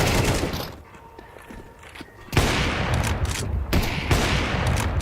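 Gunshots in a Counter-Strike 2 match between pro teams at the Shanghai Major, with a rapid fusillade of shots after a quieter lull, loud and dense.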